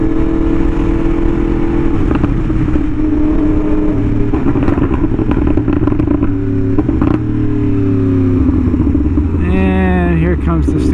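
Yamaha R1M sportbike fitted with an SC Project exhaust, heard riding through a city at sunset: a loud, close engine note rising and falling with gear changes, and a sharp high rev near the end.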